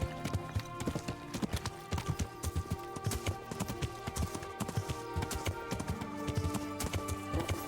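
Horse hooves clip-clop in a fast, rhythmic gallop throughout, loud and close, in the video game Kingdom Come: Deliverance.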